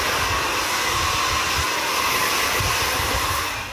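A hair dryer blows steadily on a freshly cut head at a barbershop, a constant close airy whoosh with no talk, tapering off slightly at the end.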